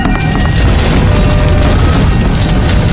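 A 4,400-pound propane tank exploding at a plant, a loud, sustained, roaring boom with heavy low rumble filling the whole stretch.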